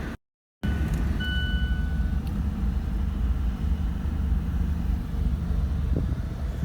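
A 2018 Mazda MX-5 Miata Club's engine starts after a brief moment of silence, then settles into a steady, close, low rumbling idle that runs on without change.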